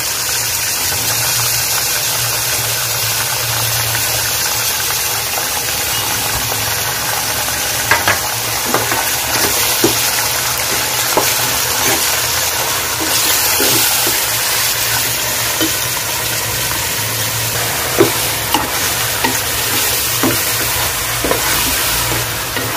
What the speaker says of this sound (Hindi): जो चाप है उसको डाल देंगे इसमें भुनने के वास्ते